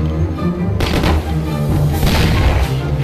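Gunfire in the Mafia video game during a parking-garage shootout, a dense stream of loud, close shots and booms over game music and ambience, with no speech.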